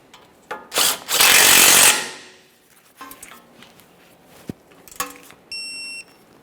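A power tool gives one loud burst of about a second while snugging a pinch bolt on a Subaru Outback lower control arm with a ball joint, followed by metallic clicks, clanks and a brief beep.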